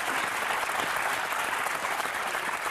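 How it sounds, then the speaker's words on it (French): Dense, steady applause from a studio audience on a French TV talk show, sustained and even throughout with no voices on top. "On applaudit Tom Marciro."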